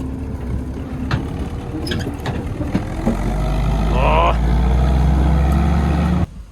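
Kubota KL-41 tractor driving in a potato field, a loud, steady diesel rumble up close that builds midway, with brief talk early and a sharp cutoff at the end.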